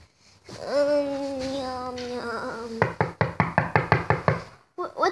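A door in a video game is knocked on, first a voice-like tonal passage and then a clear run of about nine sharp, evenly spaced knocks, close and loud, ending with a brief pair of extra raps.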